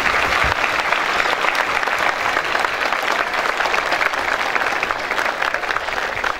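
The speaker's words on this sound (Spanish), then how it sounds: "Un aplauso, por favor." A crowd at a 25 de Mayo civic ceremony in Alejo Ledesma gives loud, sustained applause, dense even clapping that holds steady throughout with no talking.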